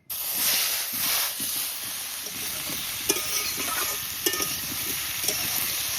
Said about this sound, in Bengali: মাছ ভাজার তেলের মধ্যে এখন এই কেটে রাখা ওলগুলো ভেজে নেব